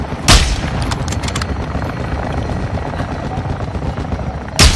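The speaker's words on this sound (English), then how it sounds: "Hostile chopper gunner in the AO." Chopper gunner helicopter in a first-person shooter video game: a steady loud rotor drone with dense low thumping, punctuated by sharp booming blasts at the start and end.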